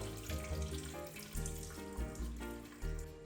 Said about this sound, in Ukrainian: Доливаю ще воду, тому що від холодної води всі масла піднімаються наверх.